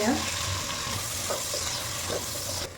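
Chopped onions sizzle in hot oil with cumin, dried chilli and bay leaf for a palak chicken, a steady close frying hiss with soft stirring scrapes throughout.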